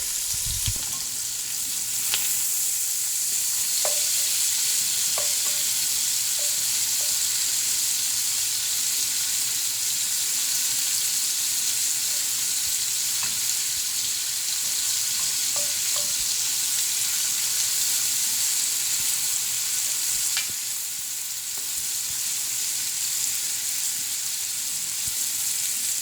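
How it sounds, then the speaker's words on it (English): Shrimp sizzle steadily in a hot pan for seafood stew, an unbroken frying hiss lasting throughout with occasional faint clinks and stirs, close and even, no one talking. "And usually the sauteed shrimp will only take about 2 or 3 minutes."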